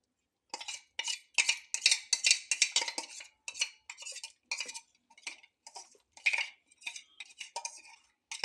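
Gram flour mixture poured and stirred into a ripe mango stew, quick bursts of utensil scraping and clinking against the pot in an irregular rhythm, close and clear with quiet gaps between strokes.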